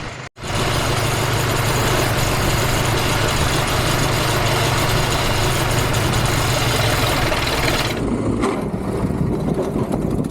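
A Farmall M tractor fitted with a 4BT Cummins diesel runs loud and close, a steady rough low-pitched rumble after a brief gap at the start, shifting slightly near the end.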